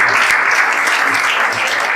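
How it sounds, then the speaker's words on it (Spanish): A church congregation applauds steadily, a dense, loud wash of clapping that fills the whole moment with no break and no talk over it. "Yo creo que merecen un aplauso. Denle el aplauso y avancen."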